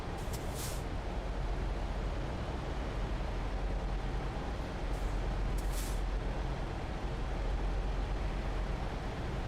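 Truck air brake hissing in American Truck Simulator, short bright bursts of air near the start and around the six-second mark over a steady low engine rumble.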